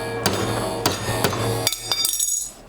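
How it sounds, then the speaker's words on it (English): A big hammer strikes a metal pipe in a series of sharp, ringing clanks, about seven hits at uneven intervals, close and clear with no talking. "Let's go to the big hammer."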